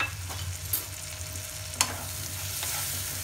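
Boiled peas and chopped carrots stirred together in a hot pan before oats go in, a soft sizzle under scraping spoon strokes with a couple of sharper knocks against the pan, close and without speech.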